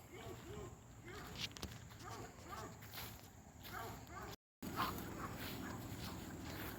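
Hound dogs bark repeatedly behind a fence outdoors, moderately close, while footsteps move through the scene and people talk.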